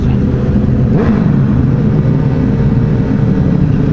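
Honda CBR 1000RR sport motorcycle with an aftermarket exhaust revving inside a tunnel, a loud booming engine note that swells and falls in pitch, echoing and close, with no talk.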